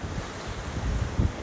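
Strong offshore wind blowing across the Manatee River near Bradenton and Palmetto during Hurricane Helene, a steady low roar with gusty buffeting on the microphone, heard briefly with no talking.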